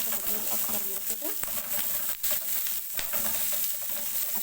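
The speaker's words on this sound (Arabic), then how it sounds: "هنقلب البصلة كده لغاية ما تاخد معانا لون، احنا عايزينها تاخد لون شوية عشان تتكرمل معانا" Chopped onions sizzle and fry in a pan while being stirred to caramelize, giving a steady close hiss with occasional scraping and clinks from the utensil.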